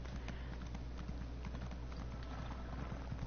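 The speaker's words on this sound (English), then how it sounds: "Go, horsey." Horse hooves clip-clop steadily in an Elder Scrolls video game, a close, even trotting rhythm over a constant low game hum.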